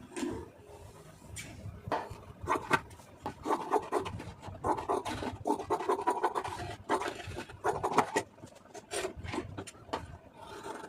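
Scissors cut through blouse lining fabric in a series of close, crisp snips and rustling scrapes, repeated in an uneven rhythm with no talking.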